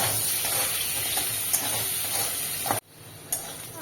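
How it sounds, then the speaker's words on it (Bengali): Potatoes with a pinch of salt and turmeric sizzling in a pan of hot oil for a fish curry, a steady close hiss that cuts out abruptly near the end before a brief faint clink. "আলুটা লাল লাল করে ভেজে নেব।"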